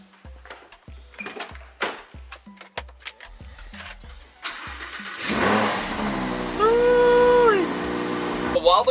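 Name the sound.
car engine starting and warming up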